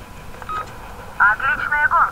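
An SMS notification in the Need for Speed Most Wanted racing game sounds as a short run of electronic beeping tones, a brief blip followed by a quick trilling sequence, loud and clear over quiet game background.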